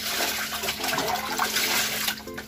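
Water poured and splashed over clothes being wetted for washing, a steady close running and splashing sound with no talk.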